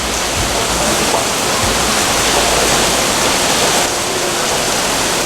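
Heavy rain pours down in Brazil, a dense, loud, unbroken hiss that fills the whole stretch with no voices.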